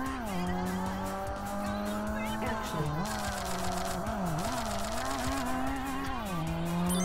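Tires squeal in a sustained howl during a handbrake drift in Tokyo Xtreme Racer Drift 2, over a loud, steady engine roar whose pitch wavers through the slide.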